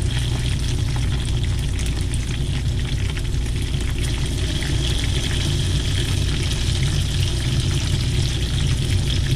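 Food frying in a pan with a loud, dense, continuous sizzle that stays steady throughout, close up and with no voices.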